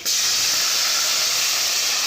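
Water poured into a hot tempering for pongali, a rice dish, gives a loud, steady, hissing sizzle that bursts in at once and holds evenly for about two seconds, close and alone with no talk.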